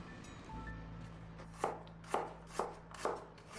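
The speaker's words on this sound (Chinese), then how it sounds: "去皮的大蒜切成小丁" Peeled garlic cloves being diced on a cutting board with a knife, five crisp, evenly spaced chops ringing out close and clear over a faint background hum.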